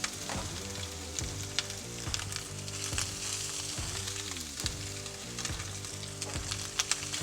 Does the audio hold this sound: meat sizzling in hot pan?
yes